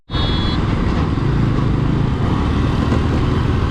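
A motorbike is ridden fast along an open one-way road in Mumbai, its engine droning loud and close without a break, with wind rush over it and no talk.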